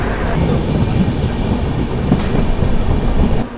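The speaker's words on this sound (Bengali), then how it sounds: "আমাদের ট্রেন বর্ধমান থেকে ছাড়লো" The 22912 Shipra Express runs out from Bardhaman with a steady, loud rumble and rattle from inside the moving train, continuous with no break.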